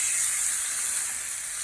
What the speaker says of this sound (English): So now we're going to flip the steak.